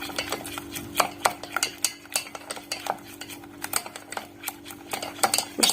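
A spoon stirs a lemon cream cake mixture in a bowl, scraping and clinking against the sides in quick, steady strokes under a low background hum.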